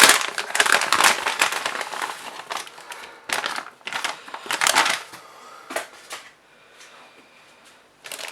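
An envelope holding a commemorative 50-złoty coin handled close up, with loud crinkling and rustling of paper in irregular bursts that thin out toward the end.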